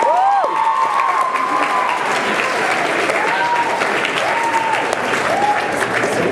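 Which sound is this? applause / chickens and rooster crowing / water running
applause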